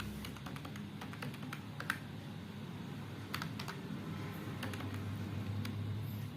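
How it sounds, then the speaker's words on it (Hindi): Steady clicking of keys as a phone number is typed on a computer keyboard during a Microsoft Word mail merge lesson, irregular taps over a low constant hum, no talking. "इनका भी कांटेक्ट नंबर आपको टाइप करके दे देने हैं"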